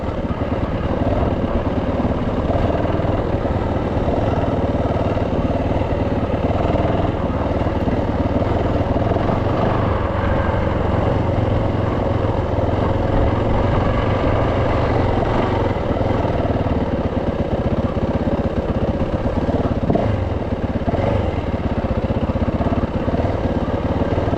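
Motorcycle engine running steadily in second gear on a mountain trail ride, a constant loud buzzing drone that holds for the whole stretch with no pauses or talk.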